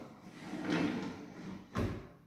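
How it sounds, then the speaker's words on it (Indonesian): Aluminium cabinet drawers slide open and shut twice in quick succession, a rough rolling scrape followed by a firmer closing knock, close by and with no talking. "Ini terus ini laci-laci, ada gunting, ada cutter."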